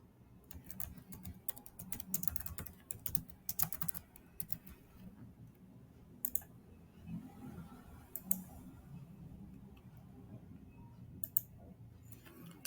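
Typing on a computer keyboard while entering product data into a supplier-selection application, with quick clicky keystroke bursts separated by short pauses, close up and fairly quiet, with no voices.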